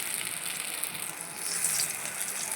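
Eggplant pieces fry in a small amount of oil in a pan, giving a steady, soft sizzling hiss with no talking.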